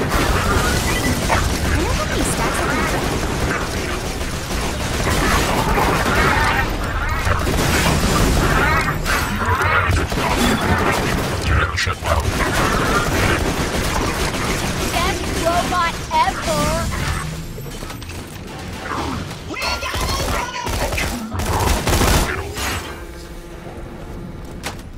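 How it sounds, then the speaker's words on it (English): Hacked turrets fire at robots in Borderlands 2 as a dense clatter of gunfire and explosions, loud and continuous throughout under game effects, with a voice speaking over the battle. "The turrets are fighting for us now!"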